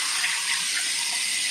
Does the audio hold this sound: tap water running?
yes